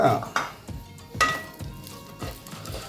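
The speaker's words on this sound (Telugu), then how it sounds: "ఇటువంటి ఆయిల్ వేడెక్కింది. ఇందులో ఉల్లిపాయలు అయితే ఇప్పుడు వేస్తున్నాను." Sliced onions dropped into hot oil in a home kitchen pan while cooking egg masala curry, sizzling and crackling close up with stirring and scraping clinks, a loud splash at the start easing into steady frying.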